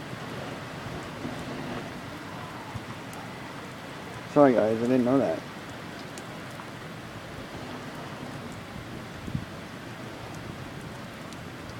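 Rain falls steadily during a sun shower on a May long weekend, a soft continuous patter with the wind, and a person speaks briefly in the middle.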